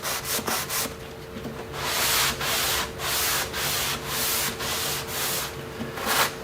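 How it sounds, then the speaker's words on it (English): A sanding sponge rubs along the edges of oak cabinets in steady back-and-forth strokes, a close, gritty scratching in repeated bursts with short pauses between them and no voices. "I'm gonna lightly sand everything. Typically I do like to start in the edges"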